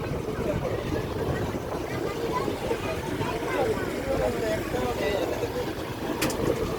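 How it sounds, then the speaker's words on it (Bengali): A passenger launch passes close by on a river, its engine and hull wash forming a continuous low rumbling drone with steady wind noise, heard from the upper deck of another boat. "আমাদের পাশ দিয়ে লঞ্চটা যাচ্ছে।"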